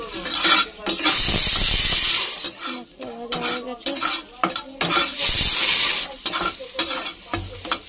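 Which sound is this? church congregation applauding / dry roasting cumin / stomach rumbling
dry roasting cumin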